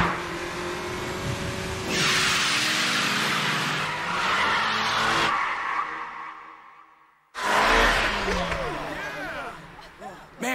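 Lancer Evo IV and AE86 racing through Akina's five hairpins, with long tire squeals and high engine revs sweeping past in two loud bursts, a quiet gap between them, and voices talking over them.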